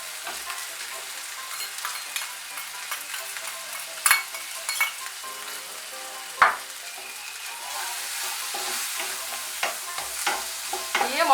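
Spice paste of ground cumin, chili powder and turmeric frying in a pan for a Bengali potol chingri curry, a steady soft sizzle with scraping stirs and a few sharp utensil clinks.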